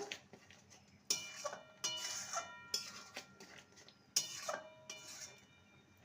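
A spoon scrapes and clanks against a pan while soya curry is stirred, giving sharp metallic knocks at irregular intervals between softer scraping sweeps, close and fairly quiet.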